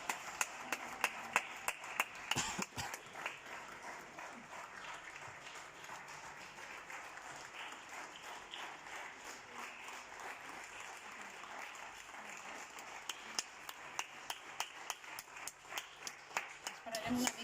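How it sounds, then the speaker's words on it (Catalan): Sustained applause from many people clapping outdoors for workers, a dense, steady wash of distant hand claps with a few louder nearby claps at the start and end. "La gent que està treballant per nosaltres es mereix que els aplaudim."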